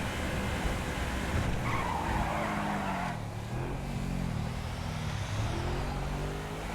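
In a GTA game, a street car drives hard, its tires squealing through a long skid as the engine note rises and falls, loud and close throughout.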